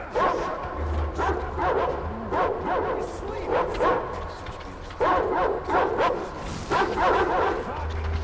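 A dog in the video game Metro Exodus barks and yips in short repeated bursts, with whimpering between them, close and fairly loud over a low background hum.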